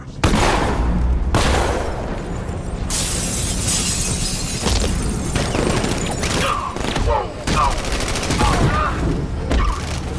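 Gunfire in Arkham Knight, a video game: dense bursts of shots and shattering impacts in a sustained fusillade, loud and close, with a brief voice cutting in near the end.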